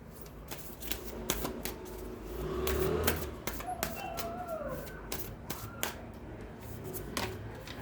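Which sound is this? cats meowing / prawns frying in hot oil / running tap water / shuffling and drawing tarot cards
shuffling and drawing tarot cards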